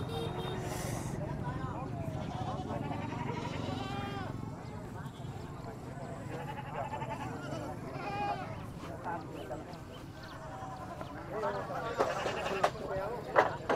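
Goats bleating at a mountain grass goat market in the Northwest highlands, repeated wavering cries from several animals close and farther off, mixed with hoof shuffling, crowd bustle and people talking.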